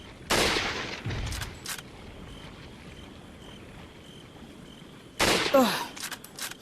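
Loud gunshots ring out in the Resident Evil 4 VR game, a sharp close shot at the start, another near one second, then a cluster of rapid cracks after a quiet stretch, with reverberant tails and no talk.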